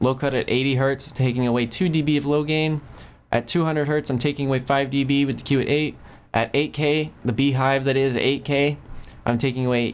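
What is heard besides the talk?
None of the usual background noises is heard.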